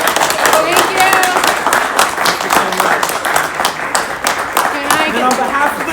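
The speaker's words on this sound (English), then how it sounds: "And one more round of applause for all of our groups." Loud, close clapping from a showcase audience applauding student groups, with distinct individual claps standing out, uneven intensity, and voices and crowd chatter mixed in.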